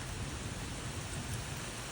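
Heavy rain pours down during a gusty thunderstorm, producing a dense, constant roar of rainfall with a low rumbling undertone that stays steady throughout.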